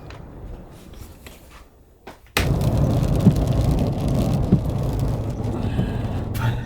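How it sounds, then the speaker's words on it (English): Steady rain falling across a small valley on New Zealand's West Coast near Fox Glacier, a dense, even hiss that starts abruptly after a quieter stretch and continues throughout. "Rain as far as I can see in this little valley."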